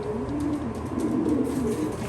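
Pigeons coo steadily inside a pigeon loft, soft and close, the low rolling calls overlapping in a continuous murmur. Faint chirps flicker above them, and nothing else is heard.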